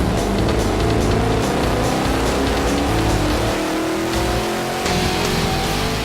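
A Cobra engine fitted with a Borla induction system revs hard under load on a chassis dyno, a loud, sustained roar with rising pitch that stays strong for several seconds.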